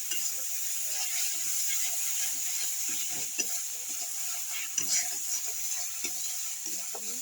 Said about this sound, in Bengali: মশলাগুলো ভালো করে ভাজতে থাকি